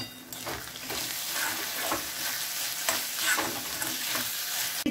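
Beetroot and meat curry sautéing in oil over a low flame, a continuous sizzle broken up by the regular scrape of stirring, with no voices.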